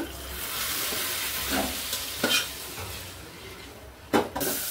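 A spiced onion, tomato and chilli curry base for stinging catfish frying in a pan, with a moderate steady sizzle, occasional spatula scrapes and one sharp clank of utensil on pan near the end.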